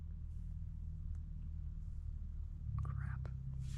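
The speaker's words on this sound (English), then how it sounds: "I can hear a tractor or a quad bike or something." Low, steady engine rumble from a farmer's tractor or quad bike near a wild campsite, droning continuously and growing slightly louder toward the end.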